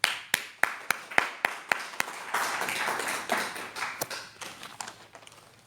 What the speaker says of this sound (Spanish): hay que darle un aplauso a Dios